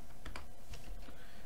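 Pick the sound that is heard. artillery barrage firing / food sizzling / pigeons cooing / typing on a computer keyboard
typing on a computer keyboard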